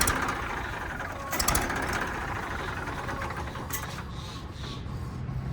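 A Massey 241 tractor engine runs after starting, a dense, steady diesel rumble close by with some rattling, and no one speaking.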